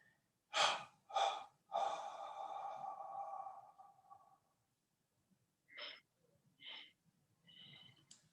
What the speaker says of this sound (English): take an inhale and exhale